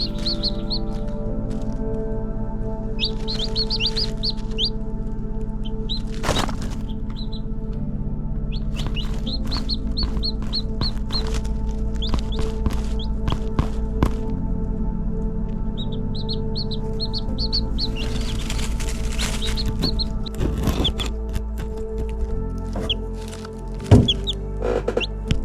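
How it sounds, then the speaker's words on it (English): Chicks in a brooder under a heat lamp, many high chirps and peeps scattered throughout over a steady low hum, with occasional soft taps and shuffling. "I'm gonna put our brooder up here so that our chicks can start to run around and eat and drink"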